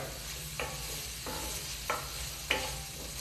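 Chopped white onion sautéing in a pan for a chicken and rice meal prep, a soft, steady sizzle broken by three or four brief scraping stirs, alone with no voices.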